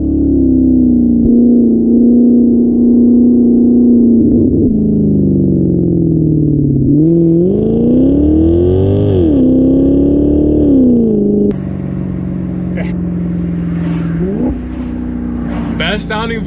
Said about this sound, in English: Best sounding V8 in the world?